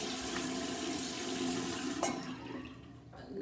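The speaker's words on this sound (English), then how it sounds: "I'm about to wash my face." Tap water runs steadily into a sink during face washing, a close, full rush of water that eases off in the last second.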